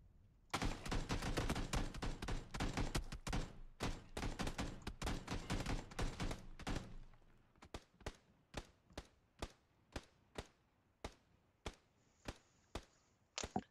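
Gunfire in PUBG during an ambush near a vehicle: a dense, rapid burst of automatic fire for several seconds, then a string of single sharp shots spaced about a second apart, fairly loud and close with no talk.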